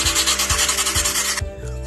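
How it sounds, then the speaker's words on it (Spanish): Sandpaper is rubbed by hand over a small wooden piece to round it for a brain model. Four close, rhythmic rasping strokes sound alone, without talk. "Con la lija lo vamos a lijar para que quede redondeado."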